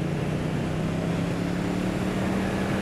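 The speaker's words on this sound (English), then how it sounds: "Just in third gear there, just cruising along and just pulling on that throttle" A Triumph Street Twin 900cc high-torque motorcycle engine pulls steadily in third gear while cruising, a constant loud droning hum with a smooth, unbroken tone and wind rush, no talking.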